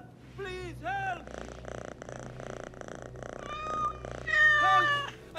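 A cat purrs in a low continuous rumble while being petted in the video game Assassin's Creed Mirage, with several short meows breaking through and background voices shouting.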